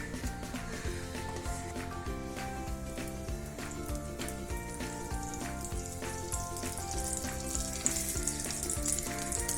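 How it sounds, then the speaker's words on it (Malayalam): Vermicelli fries in ghee with a steady crackling sizzle and light stirring scrapes, close and continuous, backed by faint music. "നിങ്ങൾക്ക് വേണമെങ്കിൽ കൂടുതൽ ക്വാണ്ടിറ്റി നെയ്യ് ഒഴിച്ച് ഇത് ഫ്രൈ ചെയ്തെടുക്കാം."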